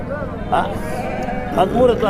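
A few sheep bleat at close range at a sheep market, with someone talking over them throughout.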